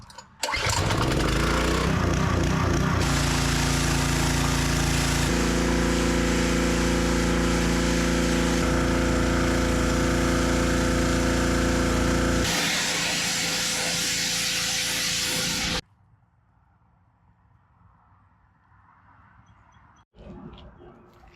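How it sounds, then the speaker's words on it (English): A gas pressure washer runs loud and steady, blasting paint off the body of a Chevy C10 truck, its hissing spray and droning engine continuous before abruptly cutting off, leaving quiet with faint sounds. "So I'm just gonna fire up the pressure washer and see how it goes."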